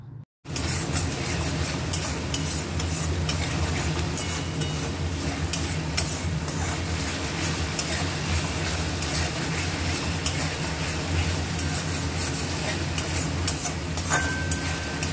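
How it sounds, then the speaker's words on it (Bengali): Spice paste with turmeric and red chilli powder sizzles steadily in a pan for a banana flower kofta curry, with close, continuous stirring and frying and no talking. "এবারে মশলাটা কষিয়ে নিতে হবে।"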